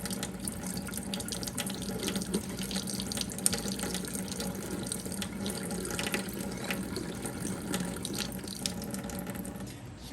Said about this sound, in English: stop pouring, go back to the spigot